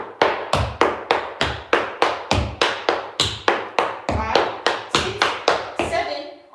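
Relaxed tap dance shuffle steps in tap shoes on a hard studio floor, a steady run of about twenty crisp, close metallic taps in even rhythm that ends with a brief scrape.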